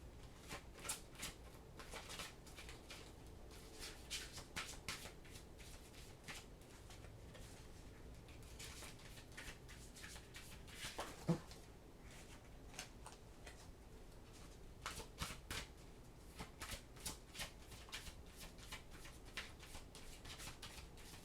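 Oracle cards are shuffled by hand, a quiet, steady patter of soft riffles and taps that continues throughout, with no talking.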